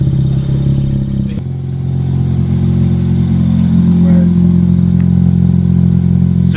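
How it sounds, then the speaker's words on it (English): A Mazda RX8 rotary engine with a decat single exhaust idles loud and steady, a deep rumbling drone with a slight lumpy pulse at close range. "So the dual exhausts are gone. We've gone to a single and it's loud, which we like."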